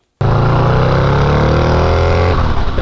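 A 223hp turbocharged Harley-Davidson motorcycle engine on light throttle, a loud, deep continuous drone that starts abruptly and holds steady, its pitch slowly rising as it eases into the ride.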